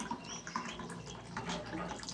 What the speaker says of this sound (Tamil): ரசத்துக்கு தேவையான அளவு தண்ணி ஊற்றிக்கோங்க